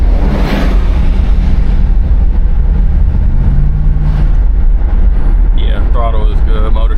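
A 1989 Chevrolet Caprice driving on the road, heard from inside as a steady low engine and road rumble with a constant loud drone, while someone talks over it.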